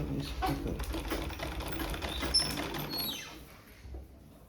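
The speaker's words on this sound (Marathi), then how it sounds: "तर गोल गळ्याला आपण शिलाई मारून घेतो" Sewing machine stitching the round neckline of a blouse, a quiet rapid mechanical whirr with fast needle ticking running steadily, then slowing and trailing off near the end.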